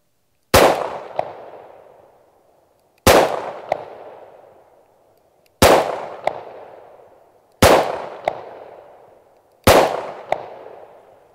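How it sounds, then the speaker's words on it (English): Taurus 85 revolver firing 38 Special +P rounds, five loud, sharp shots spaced a few seconds apart, each with a quick echo and a decaying ring. "We're going to put a few more rounds through it"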